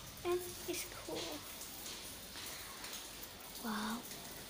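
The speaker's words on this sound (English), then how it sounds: "Look at that. It's raining and it's cool." Steady rain falls as a soft, even hiss through the whole stretch, quiet and close, with brief voices rising over it near the start and again near the end.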